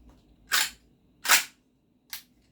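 A GHK AKMN airsoft gas rifle, a rebuilt short-stroke two-stage recoil AK, fired on semi-auto: three separate sharp cracks about 0.8 seconds apart, the last one weaker, in a quiet setting.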